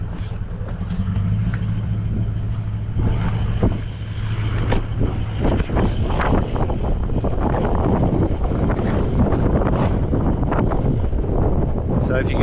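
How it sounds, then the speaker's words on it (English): Strong wind gusting over a scenic lookout in the Flinders Ranges at Mount Little Station, a loud, constant roar buffeting the microphone, with a voice faintly underneath. "It's very windy."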